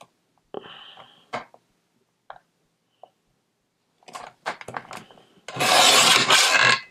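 Card stock for a recycled Christmas card being cut by hand: scattered short rubbing and scraping strokes, then a louder steady rasping stretch of about a second and a half near the end, close by with no talking.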